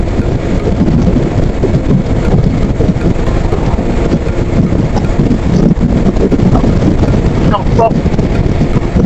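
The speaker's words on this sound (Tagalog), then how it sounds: "Oh, ulan na boy." Heavy rain pours steadily on a hillside at Sitio Baag in San Jose, Tarlac, with distant thunder and gusting wind rumbling beneath it, loud and continuous throughout.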